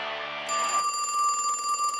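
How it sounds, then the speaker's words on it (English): An animated telephone ringing loudly, a trilling bell that changes into a sustained electronic tone with bright steady pitches. "Oh, the phone!"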